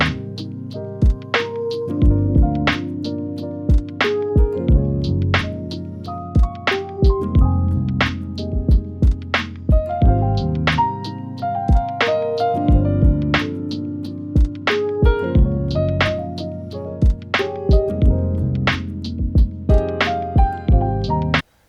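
Light keyboard keys play a repeating melodic pattern inside a hip-hop beat, with soft tonal chords under regular percussive hits, steady and upfront throughout.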